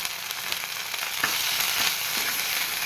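Kashmiri red chilli powder, turmeric and salt are stirred into katla fish curry in a hot pan, a steady close sizzle with occasional scraping taps of the spoon, no voices.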